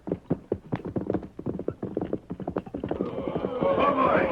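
Horses trotting on a western trail beside covered wagons: a rapid close run of hoof clip-clops, building to a busier rumble of wheels and hooves near the end, with a whinny in the mix.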